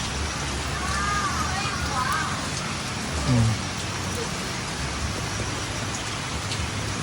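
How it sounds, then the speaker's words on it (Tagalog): Heavy rain hissing steadily and densely over a duck farm, a constant wash of noise with a brief low thump partway through. "malakas ang ulan dito"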